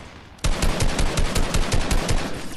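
Rapid bursts of video game gunfire from an online shooter match, loud and close, with rhythmic automatic shots repeating steadily after a brief quiet start.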